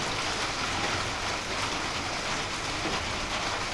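Steady, dense rain pouring down outdoors on a crop field, a constant even hiss of drops with no pauses and no voices.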